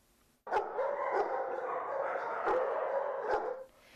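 Dogs at the Dubuque animal shelter bark and yip in a steady din, several sharp barks punching through a continuous chorus of kennel noise for a few seconds.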